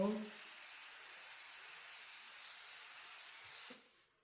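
Ammonia-free, orange-scented cleaner sprays in one long steady hiss for about three and a half seconds, close to the mic, then cuts off sharply. A soft bump or clatter is heard as it ends.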